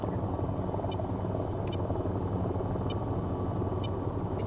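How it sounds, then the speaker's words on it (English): Steady helicopter cockpit engine drone in the VTOL VR game, a dense continuous rotor-and-turbine rumble with faint high whines, constant and close throughout. "I welcome you to the cockpit of the helicopter"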